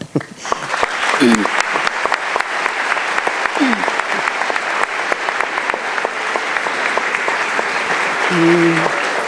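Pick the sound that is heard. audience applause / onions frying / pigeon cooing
audience applause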